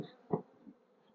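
Honey bees buzz in an opened hive being inspected after five years abandoned, a faint, low hum with one brief louder burst as a bee passes close.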